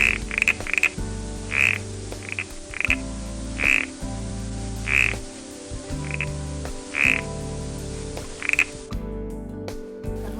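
Growling grass frogs calling in a wetland: repeated loud, rasping croaks in an irregular rhythm over a steady low chorus, close and clear with no talk.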